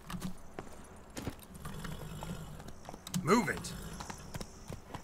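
Hooves of Roach, the horse in The Witcher 3: Blood and Wine, clip-clop in an uneven patter beneath a voice that briefly shouts, with a louder jangling moment in the middle.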